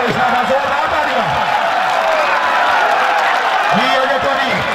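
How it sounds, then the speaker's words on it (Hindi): A crowd at a kabaddi match claps and cheers in a continuous roar, while an announcer talks loudly over the applause. "जोरदार तालियां"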